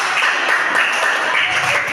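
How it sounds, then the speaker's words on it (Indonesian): A school class applauds, a short burst of brisk, dense hand clapping that stays fairly even throughout. "Kita kasih tepuk tangan yang banyak."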